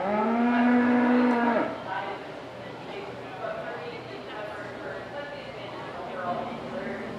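Cattle at a county fair beef show: one long loud moo in the first second and a half, then fainter lowing and crowd chatter under a voice speaking over a PA.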